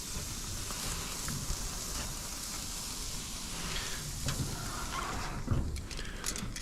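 Skirt steak sizzles steadily on a grill in Tokyo, a loud, close, continuous hiss and crackle with a few brief sharper pops, no voices over it.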